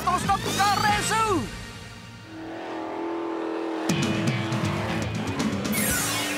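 An American stock car races on a dirt track, its engine roaring and revving in rising and falling sweeps, loud and close, with sharp crackles and a voice talking over it.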